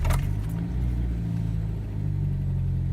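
A car engine catches after a short crank and settles into a steady, loud, low idle rumble that carries on alone without any talking.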